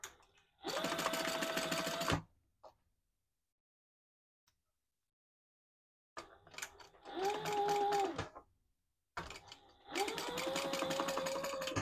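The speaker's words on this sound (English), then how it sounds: "And then I'm just going to sew these shut." A sewing machine stitching a retro style sling shut runs in three bursts of fast, steady whirring, close and clear, separated by silent pauses.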